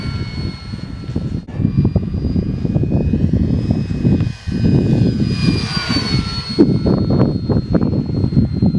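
A Durafly F4U Corsair RC plane flies on half throttle, its electric motor and propeller giving a steady whining buzz with shifting tones as it passes, fairly close and continuous with no talking.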